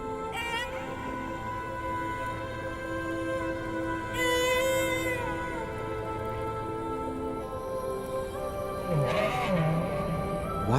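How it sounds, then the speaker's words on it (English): Whale song in the deep ocean rises and falls as long tonal moans with high, sweeping whistles and squeals, heard alone with no talking. "Petit Point will memorize the song that he hears from other whales."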